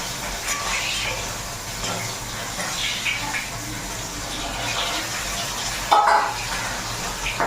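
Bhangon fish sizzles and spits steadily in hot oil in a pan, a soft continuous frying hiss with a brief louder crackle near the end and no talking.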